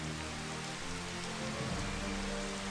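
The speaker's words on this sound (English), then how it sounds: "And it's pouring rain." Pouring rain in the video game Final Fantasy XV, a dense continuous hiss of heavy rainfall on surfaces, steady and enveloping with a faint low rumble beneath.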